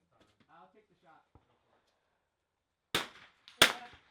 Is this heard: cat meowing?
no